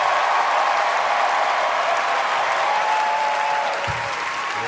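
A comedy club crowd in Chicago at a live stand-up show applauds and cheers steadily, a dense wash of clapping that holds loud throughout, with a brief voice near the end.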